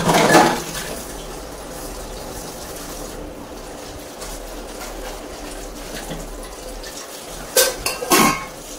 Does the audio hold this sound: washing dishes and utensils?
yes